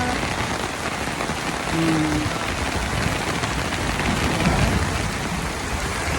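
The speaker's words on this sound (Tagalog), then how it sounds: "Ang lakas ng ulan." Heavy rain pours down steadily in a dense, unbroken hiss that stays loud and constant throughout, with no talking.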